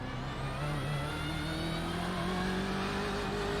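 BMW M8 GTE race car in iRacing at the Belle Isle Detroit street circuit, its engine droning loud and steady with smoothly rising pitch as it accelerates through the gears, no voices over it.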